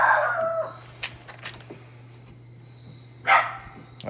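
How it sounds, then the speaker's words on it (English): A dog barks a few times off to one side, short sharp calls at the start and again near the end, over a steady low hum in a workshop where a knife is being bent. "Please excuse the doggy dog over there."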